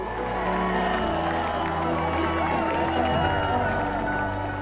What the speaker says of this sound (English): the Galway crowd had stuck around to cheer her in